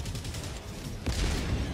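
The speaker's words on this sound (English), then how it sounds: "Auto cannon je najbolj OP." Rapid auto cannon gunfire in a video game rattles in a dense fast burst, loud and close, with a heavier thump near the middle.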